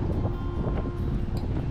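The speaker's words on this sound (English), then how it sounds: "So it's just a little windy again." Wind buffets the microphone in a steady, rough roar at a desert RV campsite near Desert Hot Springs, with no talking.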